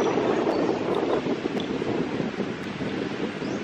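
Steady wind roaring and buffeting the microphone on Camiguin Island, with a faint wash like surf underneath; no voices.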